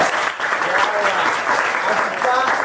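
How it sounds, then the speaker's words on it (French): Classroom of sixth-grade pupils at a school in Ngaliema applauding a girl who answered correctly, a dense, steady burst of many hands clapping at once, loud and close throughout with no pause. "Je vous applaudis."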